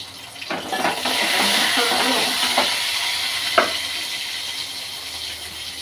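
Curry leaves, garlic and salt hit hot oil for a dal tempering, giving a steady loud sizzle with a few clinks and stirring sounds.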